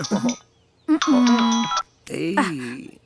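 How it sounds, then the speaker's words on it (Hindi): A phone call ringing tone plays in three separate bursts of electronic ringing with short gaps between them, fairly loud and close. "फोन लगाने को बोला था तो फोन लगाता हूँ।"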